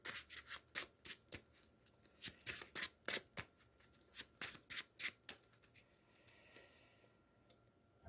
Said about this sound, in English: And I will shuffle